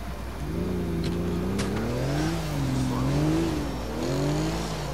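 Car engine revving in the video game GTA 4, a steady droning motor rising and falling in pitch through several throttle swells, loud and close throughout with faint clicks above.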